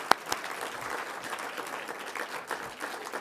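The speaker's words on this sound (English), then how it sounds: "We can clap, yeah, we can clap, we can clap." Scattered applause from the audience at the Canadian Cinema Editors Awards as a trophy winner is called up. The clapping is light and steady, with a couple of sharper claps close by at the start.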